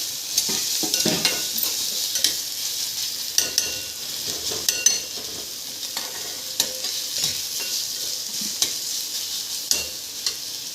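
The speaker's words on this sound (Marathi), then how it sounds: "आपण एका भांड्यामध्ये तेल टाकलेलं आहे आणि आता कचोरीचं बॅटर आपण तयार करूया" Kachori filling of ground chili, garlic, ginger, fennel and coriander with crushed peas is stirred in hot oil in a pot, giving a steady bright sizzle with repeated spoon scrapes and light knocks against the metal.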